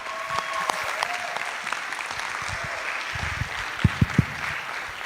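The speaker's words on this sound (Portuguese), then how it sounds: "uma salva de palmas para a Inês Durão." An audience claps steadily to welcome a presenter on stage, a dense wash of applause that holds throughout, with a few sharper nearby claps toward the end.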